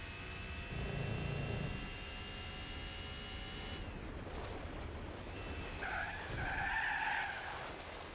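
Tires skid and screech as a small boxy car drifts around a track in Gran Turismo 4, a sustained squeal over engine noise, swelling in bursts toward the end.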